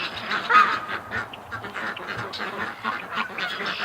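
A flock of ducks being let out quacks in a loud, continuous jumble of overlapping calls close by, with a few goose-like honks mixed in.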